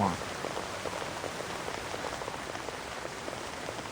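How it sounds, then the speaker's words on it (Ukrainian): Steady rain pours in a Yandere school video game, a dense, even hiss of drops on surfaces lasting the whole stretch at constant moderate loudness, with no voices over it. "the rain just ruined our practice"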